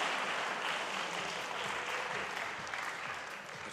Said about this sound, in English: let's cheer them on, guys